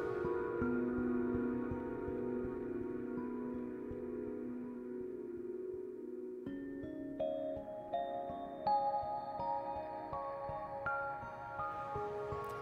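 Slow, icy orchestral game music from It Takes Two, with sustained strings and chiming bells ringing out over a soft pad; the texture turns brighter after the midpoint as bell tones enter one after another.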